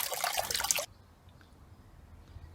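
Water gushes loudly through a heater hose from a John Cooper Works car into a bucket during a back flush. The rush cuts off abruptly after under a second, leaving soft scattered drips.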